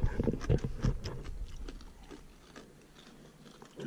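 Crispy bacon crunched while eating breakfast outdoors: irregular close, crackly bites and chewing, loudest at first, then fading to quieter crunches and rising again at the end.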